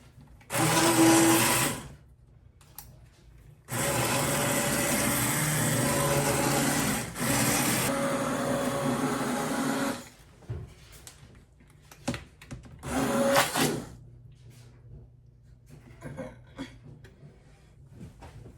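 An immersion blender whirs loudly in three bursts in a Dutch oven of tomato soup, a short one, a long steady run, then another short one, with quiet clinks and shuffling between.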